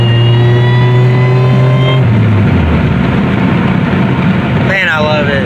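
A 2007 Pontiac Grand Prix with aftermarket headers and a catless downpipe exhaust with small leaks, loud and close: a droning idle that steps down after two seconds into a rougher rumble, then a brief higher whine near the end.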